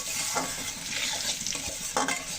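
Thin potato slices fry in a pan beside small puti fish, giving a continuous close sizzle with occasional soft scraping and stirring knocks.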